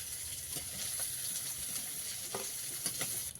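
Fish frying in a pan of oil, a steady soft sizzle with faint crackles and occasional spatters, close by and without talk.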